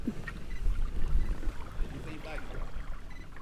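Kayak paddle strokes pulling through water against a steady wind on a Florida fishing outing, a low continuous rush of wind and splashing, close and fairly even in rhythm.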